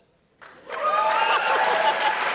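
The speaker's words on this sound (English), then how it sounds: "The round of applause is for your segue." A live audience at a Texas A&M University event breaks into applause after a moment of quiet, the clapping swelling quickly into a loud, sustained round, with a few chuckles mixed in.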